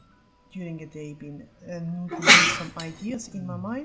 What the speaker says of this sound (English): You sneezed, sir.